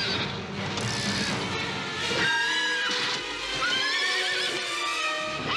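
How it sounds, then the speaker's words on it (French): Pegasus, the winged horse from the film Clash of the Titans, lets out a loud, drawn-out neigh with shrill wavering whinnies, sustained and close over a dense film soundtrack backdrop. "Nous avons donc Pégase, le cheval ailé, à l'écran presque en permanence, un gros défi pour Ray."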